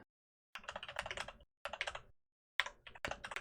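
Bursts of rapid typing on a computer keyboard, with close, clattering keystrokes in three quick runs separated by short pauses, setting up an Arch Linux install.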